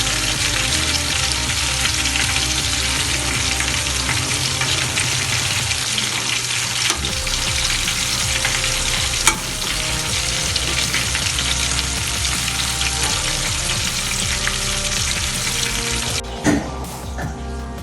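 Battered anchovy fish bajji fries in hot oil, a loud continuous sizzle and crackle running throughout, with brief stirring or turning noises near the end and no talking.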